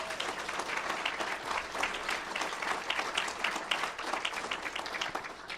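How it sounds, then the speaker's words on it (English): Clapping fills a fellowship assembly hall in New Mexico as the crowd applauds a group of volunteers. Dense, steady applause from many hands continues at an even level throughout, with no voices on top. "So let's have an applause for all of them."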